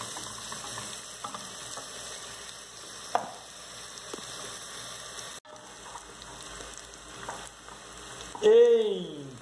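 Tripe stew ingredients and green onion frying in a pan, giving a steady, soft sizzle with occasional faint clicks and one louder scrape near the end, close up and without speech.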